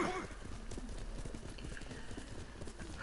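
Horse galloping in the video game Ghost of Tsushima, with steady rapid hoofbeats clip-clopping throughout at close range under a continuous bed of game ambience.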